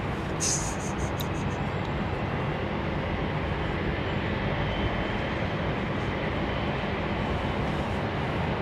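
A broad, steady roar of an aircraft at London Heathrow Airport fills the scene continuously, loud and unbroken, with a few faint clicks near the start.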